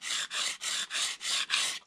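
Fine Permagrit abrasive scrapes across a foam wing template in six even back-and-forth strokes, a close, airy rasping sound with a steady rhythm and short gaps between passes.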